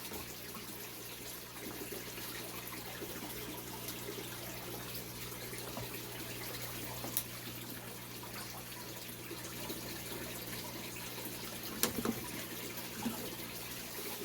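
Steady trickle of water running into a jar holding a grocery-store sweet potato, a continuous soft splashing hiss with a faint clink near the end.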